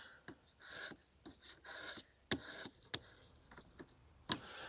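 A knife's edge is drawn across a grit sharpening stone in short, close scraping passes, each a brief rasping stroke separated by sharp little clicks and pauses.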